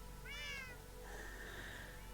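A calico cat in Minecraft gives a short, clear meow followed by a softer second mew, close and alone over a faint low background hum.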